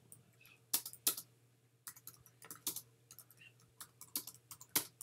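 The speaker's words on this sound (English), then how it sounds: "But we're just going to type something in for the sake of this." Quiet typing on a computer keyboard while entering text into an order form, with irregular bursts of light key clicks and short pauses, no talking.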